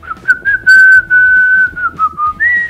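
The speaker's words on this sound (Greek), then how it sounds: "Κάτσε τώρα να σφυρίξω." A person whistles a tune, a loud close melody of held and sliding notes with short breaks between phrases.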